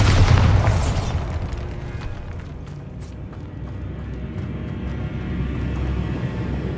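Bombarda blasting spell in the game Hogwarts Legacy: a loud close boom at the start, then a long rumbling roar of debris and crackle that fades slowly without any voices.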